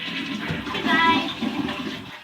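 Household toilet flushing, a short close rush and gurgle of water that swells and then tapers off over about two seconds.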